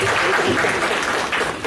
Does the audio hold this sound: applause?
yes